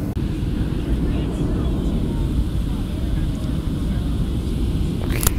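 Inside the cabin of a passenger airplane on landing approach, a dense, constant low engine and air rumble fills the space evenly from start to finish.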